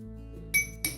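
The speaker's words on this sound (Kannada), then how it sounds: "ಹಸಿ ಶುಂಠಿ ಒಂದು 1/4 ಟೀ ಸ್ಪೂನಷ್ಟು ಇದೆ. ಇದನ್ನು ಸಣ್ಣಕ್ಕೆ ಜಜ್ಕೊಬಿಡಿ" Raw ginger, about a quarter teaspoon, crushed in a home kitchen for a raw banana palya, giving two sharp clinking knocks of metal on stone or steel over a steady low hum, close and fairly loud.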